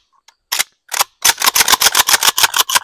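A Maverick 88 Youth 20 gauge pump shotgun loaded with buckshot, heard as two separate loud broadband blasts followed by a dense run of about a dozen sharp, evenly spaced cracks, all close and with no talking over them.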